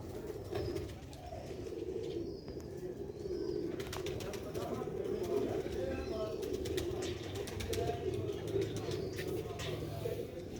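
Pigeons with red pearl eyes, kept in a cage, give a continuous low, throaty cooing close by, with a few faint higher chirps over it.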